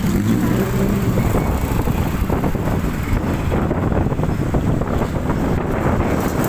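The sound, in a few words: riding a Viar electric motorcycle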